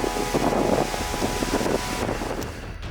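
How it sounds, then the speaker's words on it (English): Strong storm winds from a derecho roar and buffet the microphone steadily, loud and close with gusty surges, no voices. "a lot of strong winds picking up"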